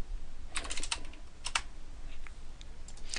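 A few quick keystrokes tap on a computer keyboard while numbers are entered into an Excel spreadsheet, close but soft, in two short clusters separated by pauses, with no speech.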